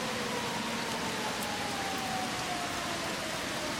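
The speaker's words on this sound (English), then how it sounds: "Right now, it is pouring down rain in Bellingham," Heavy rain pouring down in Bellingham, a steady, dense hiss that stays constant throughout and fills the whole stretch without pauses or voices.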